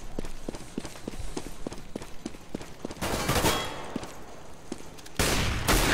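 CS:GO gunfire: a steady series of evenly spaced single shots, followed by two louder, denser bursts of rapid fire, with no talk.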